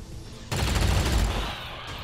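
A sustained burst of automatic weapon fire in XCOM 2: Long War 2, loud and close, lasting about a second before tapering off into quieter ambient game sound, with no talk over it.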